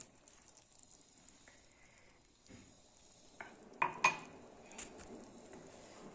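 Spoon scraping and clinking against a bowl while curd poha is mixed with milk, soft wet stirring followed by a few sharp clinks near the end, quiet and close.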